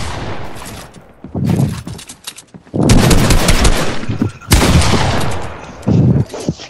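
Gunfire in the Fortnite battle royale game: loud, close bursts of rapid automatic shots mixed with heavier single blasts, coming in clustered volleys with brief gaps.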